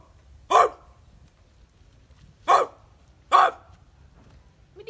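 A person imitates a dog barking, giving three short, sharp woofs spaced apart, loud and close against a faint low background.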